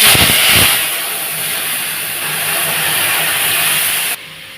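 Boiled pea lentils poured into hot oil tempered with ginger and five-spice seeds give a loud initial splash, then a steady broad hiss that runs for about four seconds before cutting off sharply.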